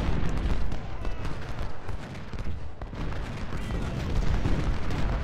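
Dense, continuous volleys of musket and cannon fire rumble from a Civil War battlefield in Ultimate General: Civil War, with overlapping distant booms and crackling shots blending into a loud, unbroken roar.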